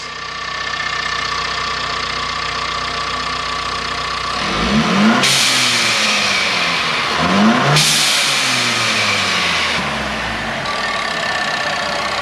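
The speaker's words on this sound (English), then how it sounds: "A couple revs." A 2022 Ford Explorer with a Whipple-upgraded EcoBoost engine idles with a steady low hum, then revs up sharply twice, each rise climbing and falling back before settling into idle again.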